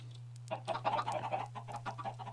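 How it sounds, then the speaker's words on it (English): Chickens cluck in short, choppy bursts in the Minecraft video game, several quick clucks close and clear over a low steady hum. "those chickens"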